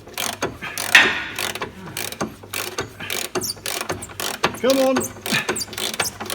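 A ratchet clicks in quick, uneven bursts while loosening a front suspension arm bolt on a Smart Fortwo, each burst close and crisp, with a brief muttered word partway through.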